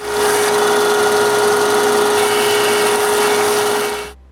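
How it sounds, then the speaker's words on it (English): A power sander runs steadily on small wooden pucks for about four seconds, a loud close abrasive whir with a constant tonal hum, then cuts off abruptly. "My pucks are not perfectly round, so I need to sand them."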